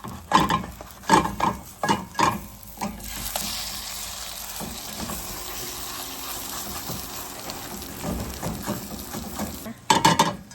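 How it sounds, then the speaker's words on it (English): A pine mushroom (matsutake) omelette being flipped in a frying pan, with scraping clatters of a utensil against the pan at the start and end around a soft, steady sizzle in between; no speech. "I think I'm ready to flip my egg"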